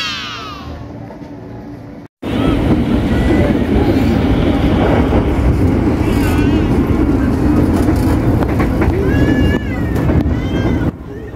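A KRL Commuter Line electric train rides away from Mangga Besar station with a steady, loud, continuous rumble and rattle, briefly cut by a gap, with faint squeals on top.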